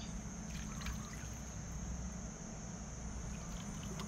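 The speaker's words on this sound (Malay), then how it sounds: "kita bubuh air sikit." A little water is poured into a cooking pot while preparing bunga sadak, a soft steady trickle running continuously and close by, with no voices.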